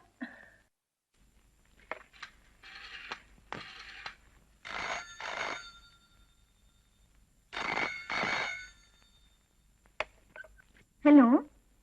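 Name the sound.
telephone ringing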